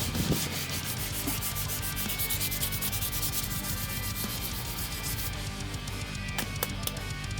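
Sanding the edges of a wooden tabletop for a custom desk, a steady close rubbing hiss with rhythmic back-and-forth strokes running continuously without talk.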